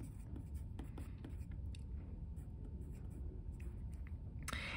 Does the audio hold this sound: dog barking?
no